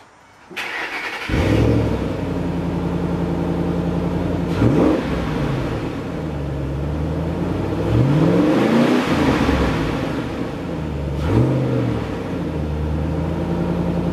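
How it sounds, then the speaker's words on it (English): A 2008 Ford Mustang Bullitt V8 cranks and fires up, then settles into a loud, close idle broken by several throaty revs that rise and fall, with no voices over it. "let me start this up for you for a second"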